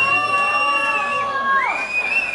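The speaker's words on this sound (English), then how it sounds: "It's happened again, they're all shouting, Paul." A game-show studio audience shouts and cheers together, with loud, sustained, sliding high-pitched whoops that rise and fall over a continuous crowd roar.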